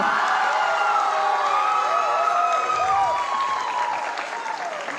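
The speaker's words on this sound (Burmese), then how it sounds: "ကျော်ဦးတို့လက်ခုပ်တန်ထပ်ပြီးတော့ကြားချင်ပါတယ်" An audience applauding at a singing competition show, a dense steady wash of clapping heard from a distance that slowly fades toward the end, with faint tones from the show lingering underneath.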